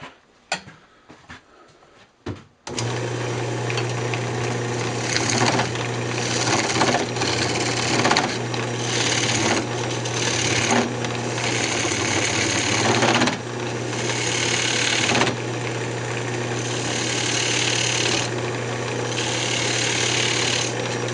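A wood lathe spins steadily as a chisel parts off a wooden clutch piece. A loud, continuous mechanical whine and hum carries a rough cutting texture, after a brief quiet start with a few knocks.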